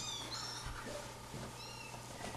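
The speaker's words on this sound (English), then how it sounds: "So these kittens are a little bit older than the kittens that Roz has" Kittens, a little older than a younger litter, give several thin high meows in a row, soft and fairly close over a quiet room background.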